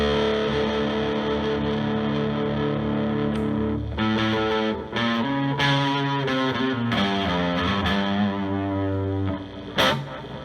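A distorted, high-gain electric guitar plays sustained chords and riffs through an amp at high volume, loud and recorded on an iPhone from a few feet away.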